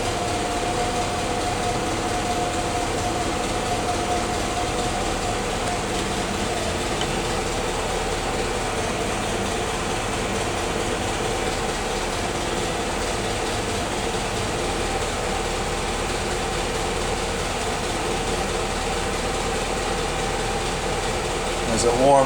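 A cold-started Willys L-head Jeep engine idles steadily, a continuous low rumbling drone that holds even and close throughout with no pauses.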